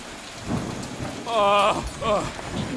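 Rain and thunder in the game Marvel's Guardians of the Galaxy, a steady wash of rainfall with a low rumble, while character voices speak over it.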